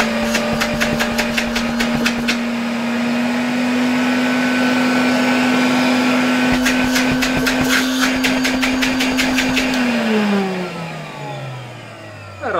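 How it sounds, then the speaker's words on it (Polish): A 1966 Elector vacuum cleaner running on reduced voltage, a loud steady motor drone with rattling ticks, then the pitch drops as it winds down near the end; no talking. "No i włączmy odkurzacz."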